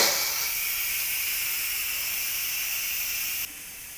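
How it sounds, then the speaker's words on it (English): A pressure cooker full of cooked pork lets off its steam in one steady, loud, close hiss that holds level throughout and drops slightly near the end, with no voices. "I'm going to release the pressure and wait until all the pressure is gone."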